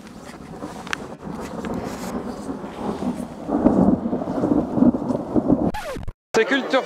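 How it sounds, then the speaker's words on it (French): Thunderstorm with a long, loud rolling rumble of thunder and steady rain, heard outdoors on a fishing trip in Ireland, building over several seconds before a sudden cut. "Bel orage"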